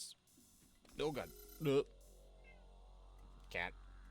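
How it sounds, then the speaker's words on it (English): A cat meows three times in short, clear calls, close by, over a quiet electronic hum with a faint tone sliding in the background. "Cat."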